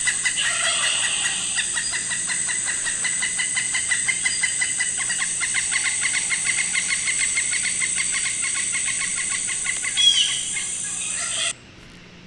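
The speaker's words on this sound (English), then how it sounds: "that's when you could hear the quick clucking, like right at the end" A chicken clucks in a rapid, repeated series of calls while flying, close and fairly loud, the quick rhythmic clucking continuing steadily until it stops abruptly near the end, with no talk.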